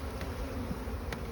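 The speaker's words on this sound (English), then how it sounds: "They are quite nice bees. They are quite gentle bees." Honeybees buzz at an open hive during an inspection, a soft continuous hum with a couple of brief louder passes close by and no one speaking.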